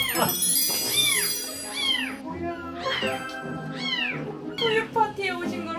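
Several kittens and a mother cat meow repeatedly at close range in a home, high rising and falling cries overlapping in a steady stream.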